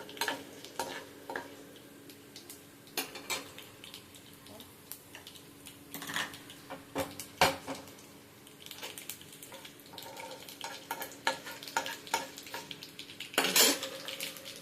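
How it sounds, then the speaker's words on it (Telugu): Food frying in a pan at home, soft steady sizzle with scattered clinks and scrapes of a utensil stirring against the pan, some louder knocks. "వేగుతుంది."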